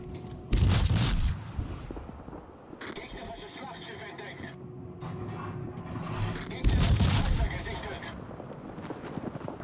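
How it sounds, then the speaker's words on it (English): Incoming naval gunfire in a warship video game: two loud heavy booming shell blasts a few seconds apart, with rumbling engine and water noise between them and someone talking over the action. "I'm going to keep trying to dodge those shots"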